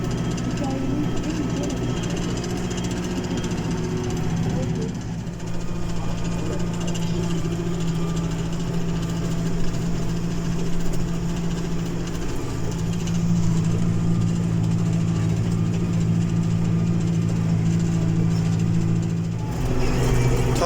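A John Deere 5083E tractor engine drones steadily and loudly around 1700 rpm while pulling a plough through a field, its pitch shifting slightly partway through as if under changing load.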